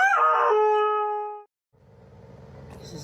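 A dog gives a loud, drawn-out howl up close, its tone holding steady before it fades out. A soft low rumble follows after a brief silence.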